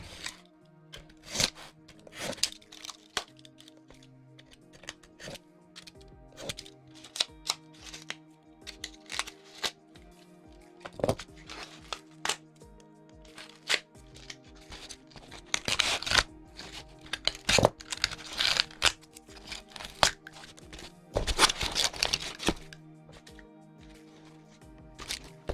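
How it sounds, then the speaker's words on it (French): Cardboard packaging is torn apart and cut to make modern sci-fi scenery for 10/15mm miniatures, giving irregular close rustles, rips and sharp snips scattered across the stretch, with a faint background hum and no talking. "On va arracher l'intérieur là. Je vais le couper, tiens."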